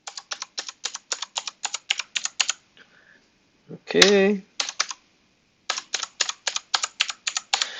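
A password is typed on a computer keyboard in quick bursts of crisp, close keystrokes, broken by a short pause where a voice briefly speaks, then the tapping resumes.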